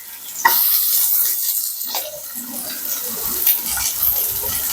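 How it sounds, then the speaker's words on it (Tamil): Chopped onions dropped into hot oil in a pan for a chicken gravy, a sharp initial hiss followed by steady close sizzling and frying with occasional stirring scrapes throughout. "நெக்ஸ்ட் வெட்டி வச்சிருக்க வெங்காயத்தை சேர்த்து விடவும்."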